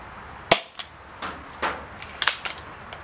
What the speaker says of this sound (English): So we're just going to fire 3 rounds through here to get an average.